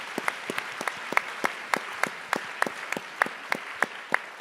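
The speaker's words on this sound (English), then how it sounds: "Applause." Scattered applause from a small audience at a Berlinale Talents panel, individual claps ringing out in an uneven rhythm, moderately loud and without talk.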